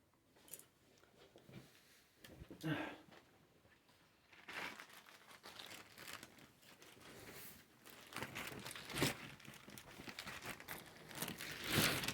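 Stacks of paper being shuffled and crinkled at close range, in uneven bursts of rustling and crumpling that grow busier and louder toward the end, with no talk.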